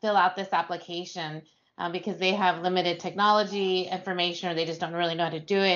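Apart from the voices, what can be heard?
None of the usual background noises is heard.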